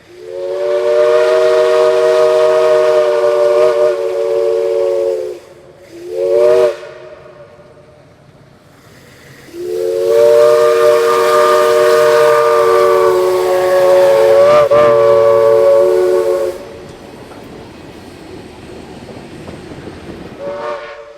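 Southern Railway 4501 steam locomotive coasting downhill with its train near Lytle Road at Chickamauga: a loud, close, chime-like steam whistle gives a long blast, a short toot, then another long blast, before fading to rolling train rumble.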